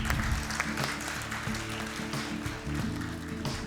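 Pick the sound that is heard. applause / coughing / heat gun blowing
applause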